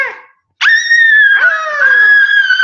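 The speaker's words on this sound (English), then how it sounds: "no more screaming" A child's sustained, high-pitched scream in a home kitchen, loud and close, wavering in pitch for about two seconds after a short lead-in.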